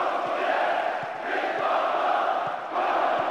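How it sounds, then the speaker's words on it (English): A football stadium crowd during a Sparta Praha versus Barcelona match jeers the manager and players, a steady dense roar of massed voices with no clear let-up. "The crowd giving both manager and players some serious stick."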